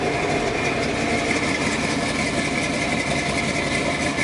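A 1984 truck engine idles roughly with a missing cylinder, running rich and poorly before warm-up; a steady, loud, continuous engine drone with no talk.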